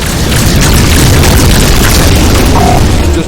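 Missile explosion in the space game Rebel Galaxy Outlaw, a loud, sustained roaring blast that fills the whole moment with dense rumbling noise and no pause.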